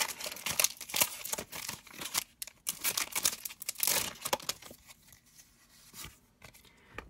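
A Pokémon Brilliant Stars trading card pack being torn and crinkled open by hand: close, irregular bursts of crisp foil crackling and ripping, louder in the middle and tapering to lighter rustles.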